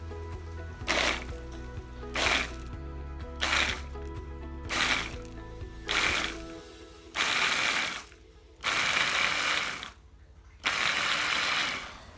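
A mini capsule blender grinds chili for sambal in repeated pulses, with about eight close bursts that grow longer and louder toward the end and short pauses between them.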